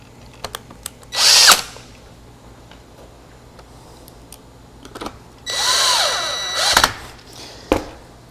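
A power drill drives screws to reattach a new plate to a router, two short close whirring bursts between small clicks and taps, the second burst longer, with no talk.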